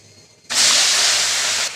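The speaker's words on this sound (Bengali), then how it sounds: "তেল গরম হয়ে গেছে, এর মধ্যে দিয়ে দিলাম মাছ দুটো।" Two chili-paste-coated rohu fish drop into hot oil, setting off a sudden loud, sustained sizzle that holds steady for over a second after a quiet start.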